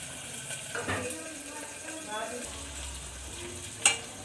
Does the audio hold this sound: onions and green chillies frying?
yes